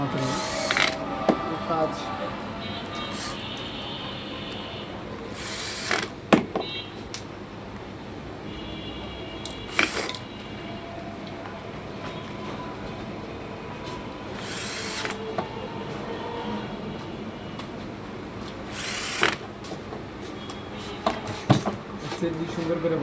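A power drill drives screws in short bursts, several separate whirring pulses spaced across the stretch, amid background noise and someone talking.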